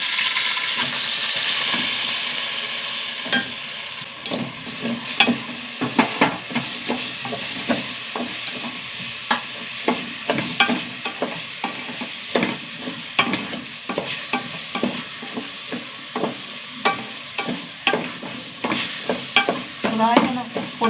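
Jeerakasala rice with a small piece of cinnamon roasting in a pan, stirred steadily: a continuous dry sizzle cut by a long run of rhythmic spoon scrapes and clacks, close and fairly loud, with no talking.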